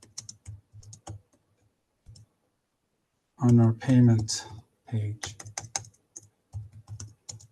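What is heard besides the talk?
typing on a computer keyboard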